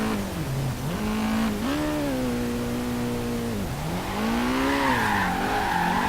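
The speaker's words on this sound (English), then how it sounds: "the car has no problem at all sliding" A car drifting in Forza Horizon 3, its engine droning steadily as tires squeal in long, wavering skids that rise and fall in pitch, loud and close throughout with no talking.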